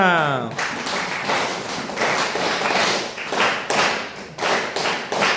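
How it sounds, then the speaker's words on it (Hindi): An audience at a gathering breaks into steady applause that fills the room for several seconds, with a voice briefly heard at the very start and dense clapping rising and falling throughout. "क्या बात है, जबरदस्त तालियां।"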